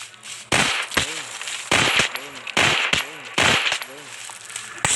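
Gunshots from a gun mod in a survival video game fire in four evenly spaced bursts, sharp and loud, with a voice talking quietly between them.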